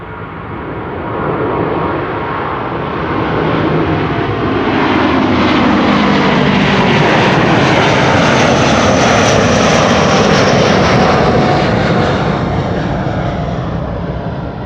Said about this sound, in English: This is Delta Airlines Flight 49 to New York, JFK,